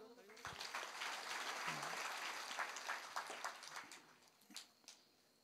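An audience claps at a talk, a short, faint burst of applause from a crowd, with voices mixed in.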